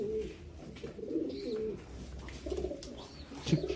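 Old line pigeons coo softly nearby in a home loft, several low, rolling coos repeating irregularly over faint background noise.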